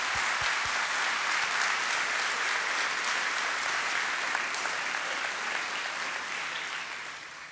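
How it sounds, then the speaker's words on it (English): A large crowd claps steadily for a graduating law enforcement training class at a ceremony, the dense applause holding loud and even throughout before tapering slightly at the end, with no voices over it. "Let's give them a big round of applause."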